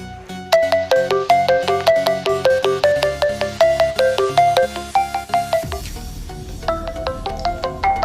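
A melodic electronic phone ringtone plays a repeating pattern of bright, evenly spaced tones, loud and close, with no talking.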